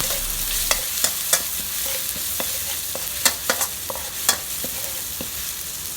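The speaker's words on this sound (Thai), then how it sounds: "ใส่พริกกับกระเทียมที่เราได้ตำไว้นะคะลงไป ขั้นตอนตรงนี้เราจะผัดให้หอมก่อนค่ะ" Chili and garlic stir-fried in hot oil in a wok for a canned fish and celery dish, with a steady sizzle and irregular scraping and stirring clicks close by, and no talking.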